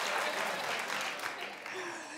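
A television talk-show studio audience claps together in a short burst of applause that tapers off after about two seconds, with a faint voice at the end.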